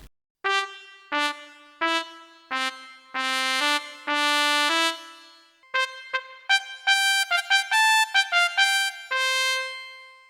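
A bright, brassy pop trumpet sound on a Greaten AP300 Pro electronic wind instrument plays a melody of short and held notes, crisp attacks with pauses between phrases, alone and close.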